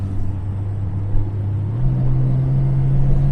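A Jaguar XJ6 with a misfire problem pulls under throttle while driving, its engine drone rising in pitch as it revs up, loud and close inside the car with a steady road rumble underneath.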